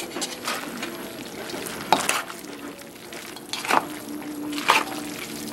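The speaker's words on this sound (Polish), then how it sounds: "wszystko mieszamy ze sobą jeszcze raz" Fettuccine with chicken, broccoli and parmesan is stirred in a pan, a soft sizzle broken by several sharp utensil scrapes and clinks at intervals.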